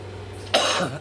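A single sharp, harsh cough caused by edema affecting the lungs and heart bursts out close by after a moment of quiet hum.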